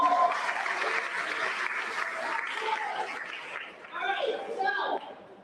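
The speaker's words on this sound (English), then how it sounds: "Let's give her a round of applause." An audience at a middle school promotion ceremony applauds in a soft, fairly distant wash of clapping that holds steady for several seconds, with voices and brief chatter rising over it toward the end.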